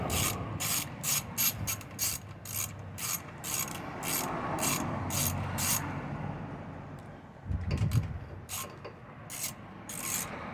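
A hand ratchet works two 10mm bolts off the carburetor of a Generac Powermate 6000/7500 watt generator, clicking in quick repeated bursts with pauses between strokes, close up and alone.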